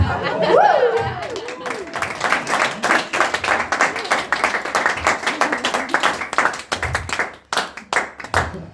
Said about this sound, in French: Ah bah on applaudit moi maintenant que c'est moi